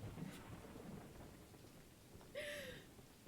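Thunder rumbling low and faint over steady rain in the horror game Choo Choo Charles, a continuous dim roll with a brief brighter sound near the end.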